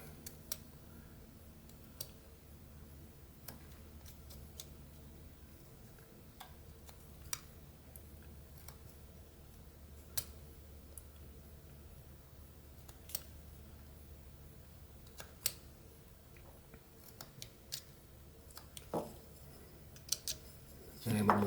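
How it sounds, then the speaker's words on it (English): A pocket knife whittles a small wooden figure, cutting a stop cut across the mouth, giving faint, close, scattered clicks and scrapes of the blade in a quiet room. "Then we can put a little stop cut in for the mouth. I'm just going to go straight across. And then carefully cut up to it."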